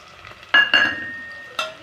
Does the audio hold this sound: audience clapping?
no